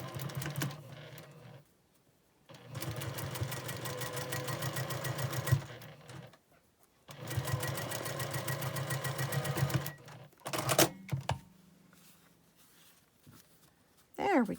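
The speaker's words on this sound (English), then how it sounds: "We're going to line these guys up and sew them together." A sewing machine stitching fabric triangles together in two long, steady bursts of fast mechanical whirring separated by pauses, with quiet handling of fabric and soft talk in between.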